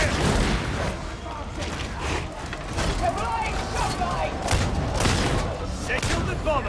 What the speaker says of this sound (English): Engaging precision fire!